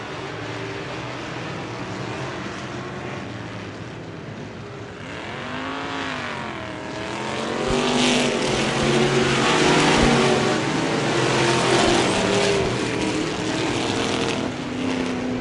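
Vintage race cars roaring around a dirt oval during a feature race, engines droning and rising in pitch as they pass, growing louder midway, with no voices.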